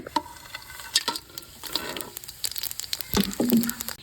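Cumin, bay leaf, cinnamon and cardamom fry in hot oil while being stirred, giving a close, lively sizzle broken by scraping and clinking from the spoon against the pan and a few sharp spits.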